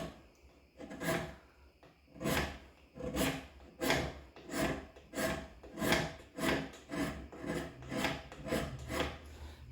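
Someone hand-scrapes a cast iron straight edge during rough scraping, making about a dozen rhythmic rasping strokes close to the listener with no speech.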